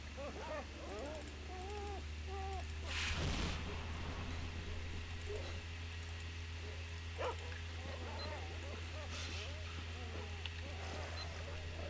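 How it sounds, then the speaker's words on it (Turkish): Dogs bark and yip intermittently at mid distance in S.T.A.L.K.E.R. Shadow of Chernobyl over a steady low hum, with a louder burst near the start and someone talking at times. "Köpekler de arkadaş mal gibi geziyor ortada ya."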